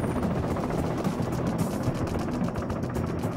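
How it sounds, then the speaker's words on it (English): Rapid rhythmic chopping of military helicopter rotor blades, a steady pulsing thump over a broad engine roar, fairly close and continuous. "Most rotor noise is caused by the tips of the helicopter's blades moving through the air at supersonic speed"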